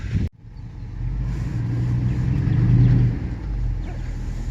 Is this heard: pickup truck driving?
yes